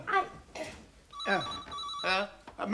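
Telephone ringing in a British sitcom living-room scene, a steady electronic trill heard in repeated bursts beneath and between lively conversation.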